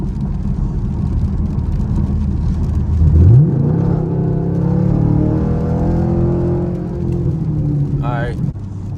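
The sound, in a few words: Chevrolet Camaro SS accelerating on a rainy highway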